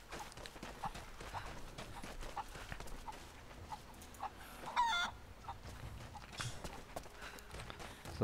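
Chicken clucks and soft hoof-like clip-clop sounds in Rise of the Tomb Raider, faint and scattered over quiet game ambience, with one brief louder squawk in the middle.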